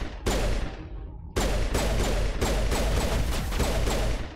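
Gunfire in the video game Mass Effect Legendary Edition: loud, close bursts of rapid shots with a brief pause, then sustained fire with mechanical clatter, no talking.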